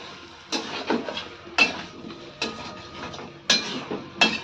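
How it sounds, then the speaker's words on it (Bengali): Meat stir-fried slowly with tomato in a pot, a utensil scraping and knocking against the pot in several separate strokes roughly a second apart, fairly quiet with no voices. "টমেটো দিয়ে দেখুন মাংসটাকে আমি ধীরে ধীরে কষাই করছি।"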